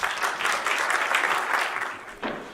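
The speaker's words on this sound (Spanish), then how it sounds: "les pido de favor que recibamos con un fuerte aplauso a nuestro querido amigo David Paniagua" An audience at a 2019 GNP sales agents' camp applauds to welcome speaker David Paniagua, a dense, steady wash of clapping from a large crowd that holds evenly, then rises briefly near the end.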